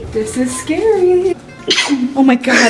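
A sneeze bursts out amid excited conversation inside an elevator that briefly stalled during a windstorm, standing out as a short, sharp, breathy outburst over several voices.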